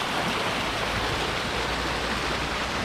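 A small creek flows nearby over rocks, giving a steady, close rushing and gurgling of water that stays even and unbroken throughout.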